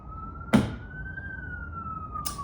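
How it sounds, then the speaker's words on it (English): An emergency siren on a New York City street wails in a long steady tone, with a sharp thud partway through and another burst of noise near the end. "sirens all day, every day"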